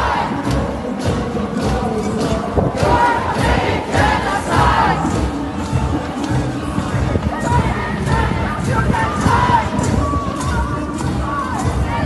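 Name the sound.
protest crowd chanting against Israel in the streets of Canada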